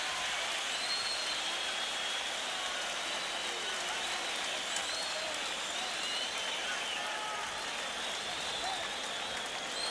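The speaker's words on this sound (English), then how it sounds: "Let's listen to that crowd, huh?" A boxing arena crowd at the Luis Resto vs Billy Collins Jr fight cheers and applauds as a constant, distant roar of mixed voices and clapping, with steady, dense noise and no pauses.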